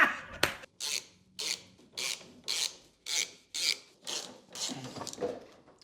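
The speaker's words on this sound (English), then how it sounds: "So with the 13mm, we're going to remove these nuts." A 13mm wrench ratchets off the sway bar bushing nuts on a BMW M3 Competition in about eight evenly spaced, raspy bursts roughly every half second, close and clear with no talking.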